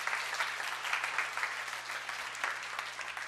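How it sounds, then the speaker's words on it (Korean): A church congregation gives a steady round of encouraging applause at a Sunday worship service, many hands clapping in a soft, even wash heard from some distance, with no voices. "격려의 박수 부탁드릴게요."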